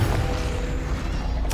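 Confringo blasting spell cast in Hogwarts Legacy, heard as a dense, loud, rumbling roar of noise that holds steady throughout, with a brighter burst flaring near the end.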